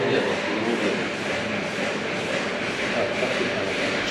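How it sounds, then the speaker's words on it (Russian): A car air conditioning system flushing stand runs in a Tesla electric vehicle repair shop, giving a steady, loud broadband hum and hiss that holds constant throughout with no talk. "Это стенд для промывки системы кондиционирования."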